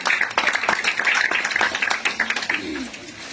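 Applause and clapping from a crowd at an early-childhood school graduation ceremony, a dense steady patter of many hands filling the space, with a brief voice near the end.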